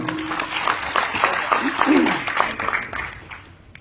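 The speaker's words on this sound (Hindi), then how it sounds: "वाह, ताली बजनी चाहिए" Audience applause in a lecture hall during a health talk on heart attacks, a brief round of clapping with a voice talking over it before it fades.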